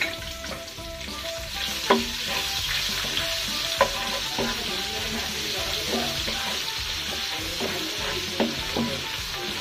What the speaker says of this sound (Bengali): এবার এই তেলের ভিতর দিয়ে দেব গোটা মশলা, দারচিনি, এবার দিয়ে দেব পেঁয়াজ কুচি